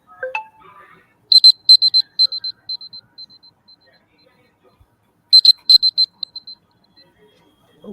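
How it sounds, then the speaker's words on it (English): Electronic time-up buzzer at a presentation event, sounding as a rapid burst of high beeps, then tapering repeats, and a second burst after a pause. A brief voice is heard at the very start. "we will ring a buzzer, which will sound something like this"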